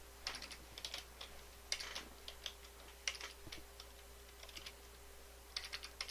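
Typing on a computer keyboard, with quiet close key clicks in short irregular bursts separated by pauses, over a faint steady hum.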